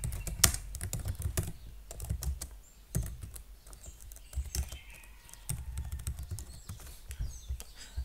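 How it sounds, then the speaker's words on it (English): Fingers typing a question on a computer keyboard, quick irregular clusters of light key clicks with short pauses between bursts, close and quiet. "just click on this input area and then type your question"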